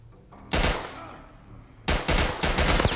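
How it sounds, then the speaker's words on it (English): Assault rifle fire in The Last of Us comes in two loud, close bursts of rapid shots with a short pause between them, and no talk over them. "Assault rifle, new weapon."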